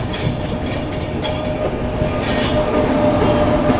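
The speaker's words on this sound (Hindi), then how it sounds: "सामने से कोई ट्रेन दिल्ली कैंट की तरफ बढ़ रही है।" A train running along the Sarai Rohilla–Delhi Cantt rail line, a steady close rumble of wheels on track with squealing metal and faint clickety-clack, loud and continuous with no voices.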